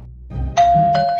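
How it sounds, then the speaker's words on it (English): A doorbell gives a loud, close two-tone chime, a bright ding and then a lower dong, after a brief low thump. "Let's ring the doorbell."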